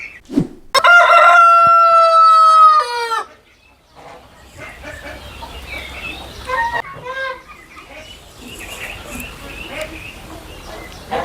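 A white Colombian Brahma rooster crows loudly and close at a poultry farm, followed by softer clucking and farm noise while people talk.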